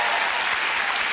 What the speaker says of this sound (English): So that round of applause